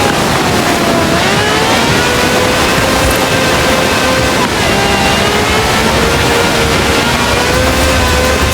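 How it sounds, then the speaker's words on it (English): A V12 engine of over 750 horsepower in a wide-bodied cab car from Forza Horizon 4 roars loud and continuous, its pitch rising and falling as it revs and shifts gears, close and alone without talk. "No clattery diesel engine here. This has a V12 with over 750 horsepower"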